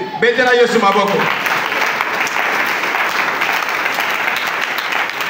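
A church congregation applauding and cheering in acclaim of Jesus, a loud sustained wash of clapping that follows a brief shout and fills the room.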